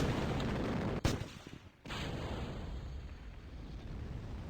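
Rocket stage engine igniting in space in Kerbal Space Program, a sudden sharp burst followed by a steady broadband roar that holds loud and even, with no talking.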